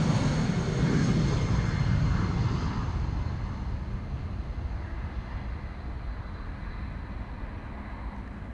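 An easyJet airliner departing Amsterdam Schiphol for Glasgow roars past, loudest at the start, then fading into a softer distant rumble over several seconds.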